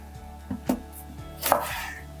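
A knife chops through the end of a half onion on a cutting board, with several sharp, close taps spread across a couple of seconds and a crisper cut near the end, with no talking.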